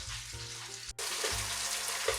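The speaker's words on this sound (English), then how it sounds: "So I'm going to leave it to saute for about a minute." Bay leaves sauté in hot oil in a pan for a Ghanaian red red beans stew, giving a steady close sizzle with a brief drop near the middle before the frying resumes, alone with no talk.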